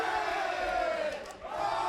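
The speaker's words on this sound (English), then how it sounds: "And the crowd going wild for him." A crowd at an MMA event roars and shouts loudly in a packed venue, a sustained wall of cheering and yells that dips briefly before surging again.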